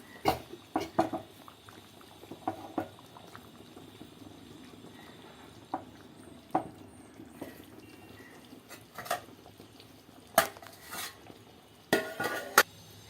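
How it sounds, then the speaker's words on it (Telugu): Korameenu fish pulusu curry simmering in a pot and gently mixed, a quiet bubbling under scattered sharp knocks and scrapes of a spoon against the pot. "మళ్ళీ ఒకసారి మెల్లగా మిక్స్ చేసి"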